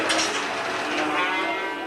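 A single short bellow from a cow, harsh and noisy, close and moderately loud, lasting under two seconds.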